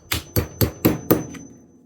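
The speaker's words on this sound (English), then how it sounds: "I'm going to take my special gunsmithing hammer and just drive that baby out" Five sharp metallic hammer strikes, evenly spaced, then a faint sixth tap as a gunsmithing hammer drives a roll pin out of an AR-10 rifle part; close and loud with no talk.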